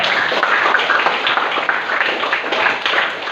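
Audience clapping together at a university event at IAIN Ambon, a dense steady wash of many hands held at an even level throughout with no voices over it.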